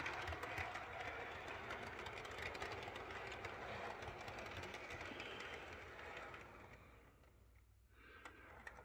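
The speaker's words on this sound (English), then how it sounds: "I'm going to pull the first baggage car at 80 foot, and then I'll push." A model train pushes baggage cars through a crossover, giving a steady, close rolling rumble and fine clatter of wheels on track that eases off and grows quieter toward the end, with no one speaking.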